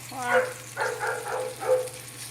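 A dog barks in a home kitchen where food is frying in hot oil, giving several short barks in an uneven sequence over a low steady hum.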